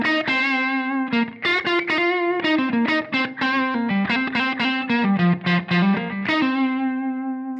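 Electric guitar playing minor pentatonic licks that keep returning to the root note, a rapid run of distorted, effect-laden notes, loud and close with no talking.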